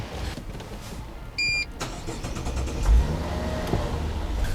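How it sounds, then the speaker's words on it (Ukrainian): A Mazda CX-90 crossover chimes, then its engine turns over and settles into a steady idle, close by with no talking. "Давайте ми зараз заведемо автомобіль і подивимося, як воно працює."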